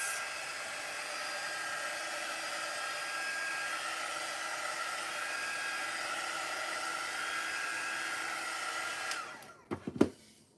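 A hair dryer blows steadily on a decal to warm it so it sticks to a thrifted desk caddy, a constant airy whir running for about nine seconds before cutting off with a couple of handling bumps.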